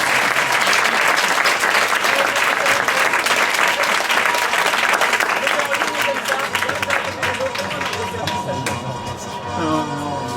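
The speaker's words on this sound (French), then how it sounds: "nous applaudissez bien fort, s'il vous plaît" Loud, sustained audience applause at a French stage show, dense clapping filling the whole stretch with crowd noise and some cheering, easing slightly toward the end.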